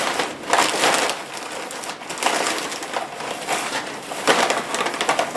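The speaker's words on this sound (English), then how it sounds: "I'll just unwrap it together." Paper wrapping being pulled and crumpled off shopping haul items, a continuous close rustle and crackle swelling and easing in bursts, with no one speaking.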